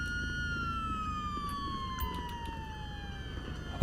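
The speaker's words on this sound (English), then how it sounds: "I can hear the sirens from here" A video game police siren wails continuously with a slowly falling pitch, heard at moderate distance over a low background rumble.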